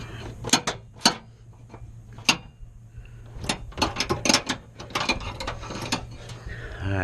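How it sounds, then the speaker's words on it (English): A small ratchet wrench tightens a power tailgate lock on a 2017 Toyota Tacoma, giving bursts of sharp clicks in uneven runs over a low steady hum, close by with no talk. "These little wrenches, little, kind of like a ratchet wrench."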